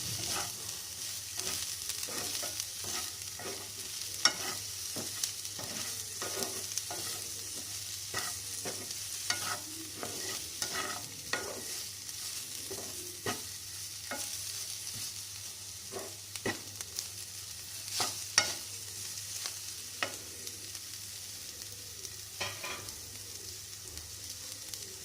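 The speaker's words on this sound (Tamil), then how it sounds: "அந்த வெங்காயத்துக்கு பாருங்கள், ஜென்டலாக மிக்ஸ் பண்ணிப்போம்." Onions fry over low heat in an uncovered pan with a steady soft sizzle, while a utensil stirs them gently in repeated light scrapes across the whole stretch; no one talks.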